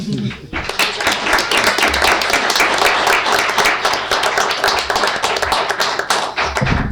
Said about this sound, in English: Got the best applause of all from your son.